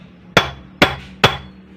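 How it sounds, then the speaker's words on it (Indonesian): Three sharp metallic hammer strikes with a pipe on the front shock absorber mount of a Honda Supra X 125 motorcycle, evenly spaced, close and loud, each ringing briefly. "Kita palu saja ini dengan pipa"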